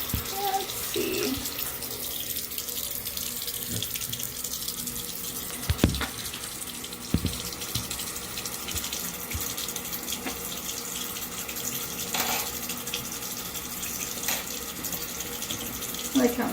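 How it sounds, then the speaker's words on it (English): Tap water runs steadily into a bathroom sink while hands are washed, a continuous hiss and splash close by, with a few brief knocks and clunks and no talking. "Some water, just because actually I'll wash my hands."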